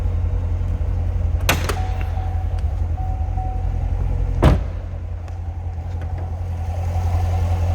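The 6.2-liter V8 of a 2017 Chevrolet Corvette Stingray convertible 3LT idles with a steady, deep low rumble under its open hood, broken by two sharp metallic clunks.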